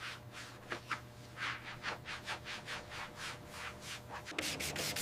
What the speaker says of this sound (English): Sanding rust off exterior antennas with 400 grit.